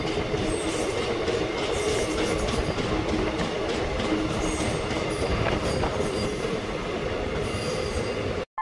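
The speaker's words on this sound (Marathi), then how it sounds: "लोकल ट्रेन आता रवाना झाली आहे." A local passenger train rolls steadily along the rails on a Maharashtra-to-Gujarat journey, heard from inside the carriage as a loud, continuous rumble with faint wheel squeal and rail clatter throughout, no talking.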